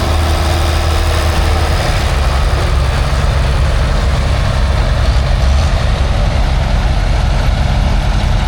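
A six-cylinder turbo diesel tractor engine idles loudly and steadily nearby at a tractor parade, a deep, even rumble with a low throbbing beat throughout.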